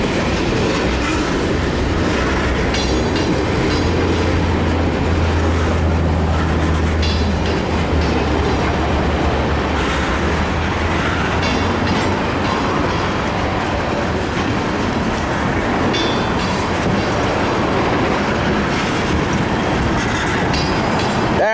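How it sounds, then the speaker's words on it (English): CSX westbound mixed freight train with tankers, gondolas and other cars rolling past close by, a steady loud rumble with rhythmic clickety-clack of wheels over rail joints throughout. "Lots of big freight trains everywhere."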